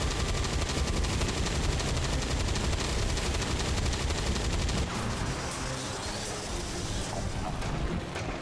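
Sustained rapid gunfire from soldiers in the video game XCOM 2, dense and continuous bursts at steady loudness throughout, easing slightly toward the end.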